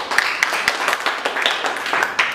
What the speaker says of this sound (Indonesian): Tepuk tangan dong untuk Naturindo.